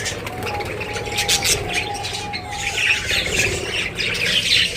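Pet parrots squawk and screech repeatedly as they fly down to their owner, a busy, loud flock chorus with some wing flutter and a few faint voices underneath.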